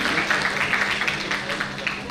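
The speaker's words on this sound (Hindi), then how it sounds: "तो एक बार जोरदार तालियां होनी चाहिए फॉर ऑल द स्टूडेंट" Loud applause from an audience at the Delhi Star Award 2024 ceremony, clapping steadily for students receiving scholarships, a dense continuous patter lasting throughout.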